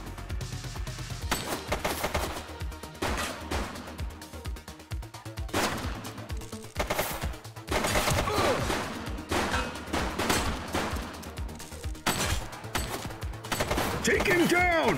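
Bursts of machine gun fire in a police video game set on city streets, rapid rattling volleys coming in loud clusters with gaps between them, mixed with other game sounds and voices.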